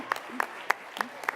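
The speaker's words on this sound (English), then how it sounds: "give him a round of applause" A handful of sharp, evenly spaced claps from a healthcare conference audience, about five distinct hits in quick rhythm rather than a full ovation, close and fairly crisp.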